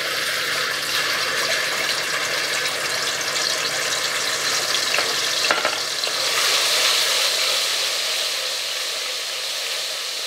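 Spices frying in hot oil in a pot for djon djon rice, a loud, constant sizzle with faint stirring clinks and a slight swell near the end, with no talking.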